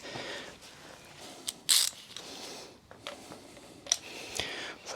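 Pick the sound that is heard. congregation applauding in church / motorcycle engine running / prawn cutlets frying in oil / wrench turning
wrench turning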